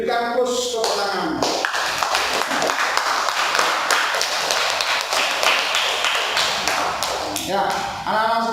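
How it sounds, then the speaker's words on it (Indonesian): Students in a classroom clap together for several seconds, a dense burst of applause that starts sharply and tapers off, with a voice speaking before and after it. "Silakan kami berikan push tepuk tangan."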